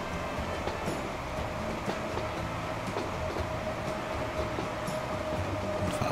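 A steady rumble comes from an S-Bahn commuter train pulling out of Innsbruck main station in Transport Fever 2. A constant faint whine rides over the drone, with occasional light clicks and clatter.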